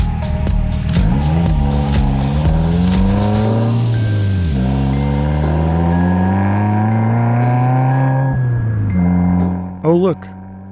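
A car on a rural road accelerates hard, its engine revving up through gears with rising and falling tones, loud and close, with a brief burst of noise near the end.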